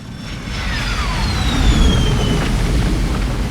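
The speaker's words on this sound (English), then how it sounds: "Here's a shot of a spaceship landing." A spaceship descending to land in a visual-effects shot, kicking up dust: a loud, steady roar of deep rumble with thin whining tones sweeping downward across it, sustained throughout.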